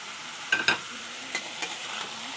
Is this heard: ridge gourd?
yes